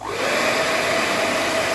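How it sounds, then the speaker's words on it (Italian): A hair dryer blows steadily at close range, a loud, even whoosh with a faint whine that holds unchanged throughout. "Adesso con il phon faccio un po' di rumore"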